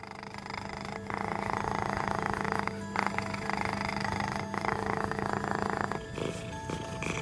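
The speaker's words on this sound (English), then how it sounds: "when they are happy, they make a particular kind of sound. That is known as purr." A domestic cat purrs steadily up close for several seconds, a continuous low rumbling with a few brief breaks, with no one speaking.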